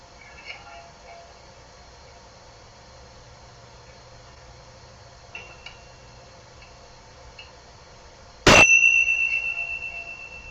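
A single bright chime is struck once and rings out with a long decaying shimmer during a sound healing session, following quiet room tone with a few faint ticks.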